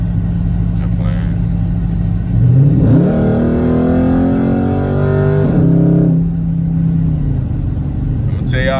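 A 2012 Dodge Charger SRT8 engine accelerates hard on a highway, a loud close roar that climbs in pitch through the gears with a shift partway, then settles back to a steady drone.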